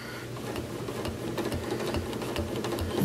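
Sewing machine stitching a ruler-work fill design on a quilt with faux sashing, a steady mechanical whir with fine rapid needle ticks, close and continuous throughout with no talk.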